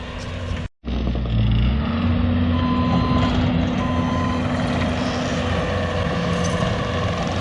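Heavy earthmoving equipment pushes off grass and topsoil at a shop building site. A steady, loud diesel engine drone runs throughout, with intermittent reversing beeps and a brief dropout near the start.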